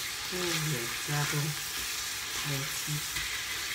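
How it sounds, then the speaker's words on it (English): Chicken pieces browning in a hot frying pan for a home-style Italian chicken dish give off a steady close sizzle, with brief tonal, voice-like sounds rising over it a few times. "Just going to turn the chicken over because that's cooking away nicely now"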